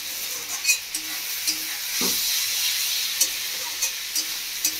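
Potatoes sautéing in oil for a Bengali rui fish curry with raw banana, sizzling steadily up close while a utensil stirs and scrapes the pan in occasional soft taps.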